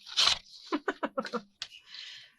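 Paper being torn for a collage board, heard as a sharp rip followed by a rhythmic series of short tearing pulls, then a softer drawn-out tear, close and isolated.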